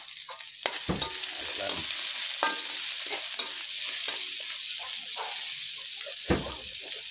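Onion, spring onion and ginger sizzle together in hot oil while being stirred, with a constant frying hiss broken by scraping and clinking of the utensil against the pan.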